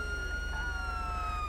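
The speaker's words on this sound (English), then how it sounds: "you can tell by the sirens that it's still the original default siren" A steady electronic police siren wail plays in the LSPDFR video game on a Victorian Police highway patrol car, a sustained tone sweeping slowly downward, moderately loud over a low hum.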